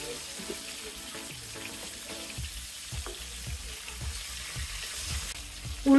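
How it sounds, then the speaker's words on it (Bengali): Rui fish pieces, just flipped, crackle and sizzle in hot oil alongside a faint running-water wash and an even pulsing beat in the background. "উল্টে পাল্টে ভালো করে আমি ভেজে নেব।"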